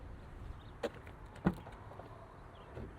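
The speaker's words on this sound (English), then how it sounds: "For 2025, we now have these power-assisted doors" The power-assisted rear door of a 2025 Cadillac Escalade V gives a soft motor whir and two distinct muffled thunks, faint against a quiet interior hush.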